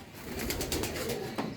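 A pigeon coos softly in a series of low, rhythmic pulses, somewhat distant and faint against a quiet outdoor background.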